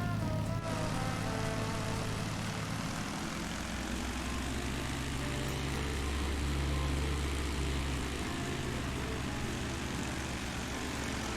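Twin Lycoming piston engines of a BN-2 Islander in Microsoft Flight Simulator, a loud, steady propeller drone with a deep, throbbing rumble that holds throughout.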